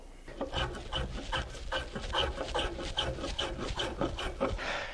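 Hand plane shaving a wooden tool handle down to size, rhythmic rasping strokes repeating about twice a second, close and fairly loud with no talk.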